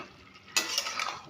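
A utensil stirs and flips fried lentil dumplings (bori) with chili in a pan, a short scraping clatter that begins abruptly over a faint sizzle.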